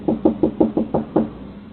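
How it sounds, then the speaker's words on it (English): Six sharp knocks on a house's front door in a quick, even rhythm, close and clear, with no voices. "ringing the doorbell and knocking at the door"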